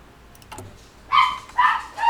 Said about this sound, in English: the dog's just barking at you around things as usual